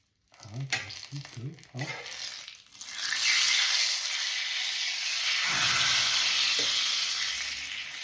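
Oil sizzles and crackles steadily as traditional Polish pączki doughnuts fry, a continuous loud hiss following a few seconds of clattering and handling sounds at the start.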